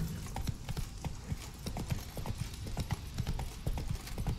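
Horse hooves galloping in a race in The Witcher 3 on Skellige: steady rapid clip-clop beats throughout, close and clear over a constant low rumble, with a faint whinny.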